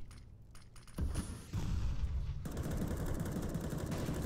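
Pistol gunfire during a competitive Counter-Strike match, with sharp bursts of shots, the first faint and the later ones louder and dense, over continuous game noise.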